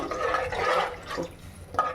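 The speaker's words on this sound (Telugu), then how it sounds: "ఒక గ్లాసున్నర వాటర్ కూడా వేసేసాను" Water pours steadily into a cooking pot for a couple of seconds while making bisibelebath, a close, splashy gurgle with a brief drip-like splash near the end.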